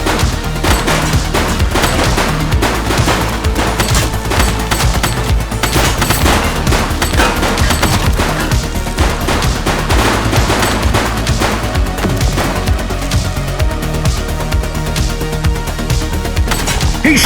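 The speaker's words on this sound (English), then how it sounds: "He's shooting!" Sustained, loud gunfire from a police shootout in the video game Precinct, with dense overlapping shots and bursts continuing without pause and no talk.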